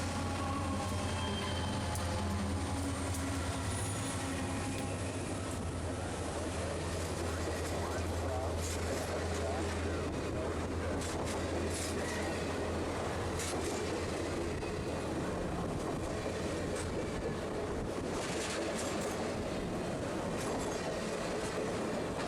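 A circus train pulled by three CSX diesel locomotives rumbles past steadily on a mainline, with a deep engine drone, wheels clattering and occasional squeals over a continuous loud roar.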